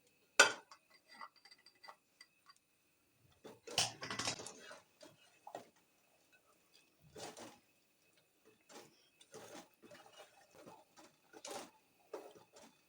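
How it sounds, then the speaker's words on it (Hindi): A spoon clinks and scrapes against a pot while chickpea curry with yogurt is stirred, scattered irregular metallic taps with quiet gaps between them, close and fairly soft. "ये देर तक चम्मच हिलाती रहें।"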